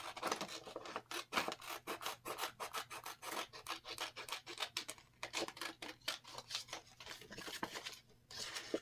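Scissors snip out a craft shape in a quick run of short, close cuts, an uneven rhythm of crisp rasping strokes with brief pauses.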